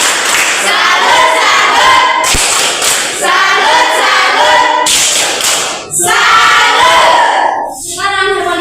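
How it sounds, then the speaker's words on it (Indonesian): A class of children in a classroom performs the tepuk salut clapping chant, with bursts of rhythmic group claps and shouted voices repeating in several waves, loud and close. "Tepuk salut."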